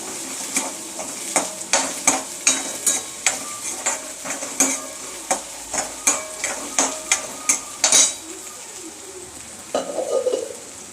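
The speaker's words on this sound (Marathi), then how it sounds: "थोडंसं आलं लसूणची पेस्ट टाकूया, हे मिक्स करून घेऊया" Cauliflower and ginger-garlic paste being stirred in a pan, a steady run of spoon scrapes and knocks about every half second over a soft sizzle, close and clear with no talking.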